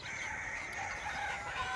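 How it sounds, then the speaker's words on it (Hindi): Local village chickens and roosters at a house with farm-like grounds, crowing and clucking steadily at close range with no talk over them. "पूरा लोकल मुर्गी सब है ये"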